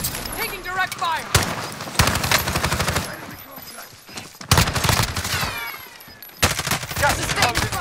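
Call of Duty: Modern Warfare match at Bootheel shipyard: loud, close bursts of automatic gunfire start and stop in sharp volleys, with players' voices and game chatter underneath.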